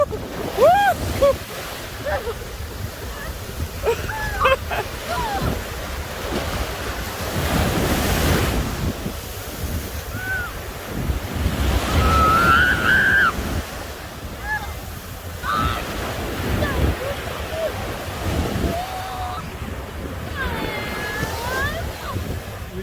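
Ocean waves wash onto a beach in a rolling roar, buffeted by wind gusts on the microphone, while people shout and chatter nearby.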